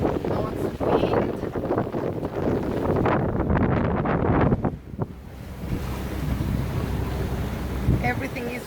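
Strong wind of about 13 to 14 knots buffets a sailing boat at sea in fog as waves rush and splash against the hull. The roar stays loud and continuous throughout.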